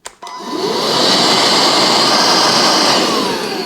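A Bosch Serie 2 Readyy'y 16V cordless vacuum switching on and spinning up to its single maximum speed, a loud, close, steady high-pitched whine and airy roar that holds level before easing slightly at the end.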